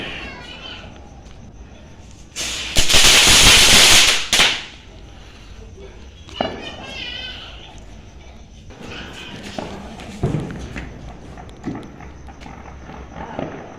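A New Year's Eve firecracker bomb explodes with one loud, sharp broadband burst lasting about two seconds, followed by outdoor crowd noise and scattered distant pops.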